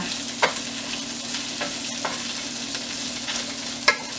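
Garlic, onion and ginger stir-frying in a pan, a steady close sizzle with a few sharp clacks of the utensil against the pan, no voices.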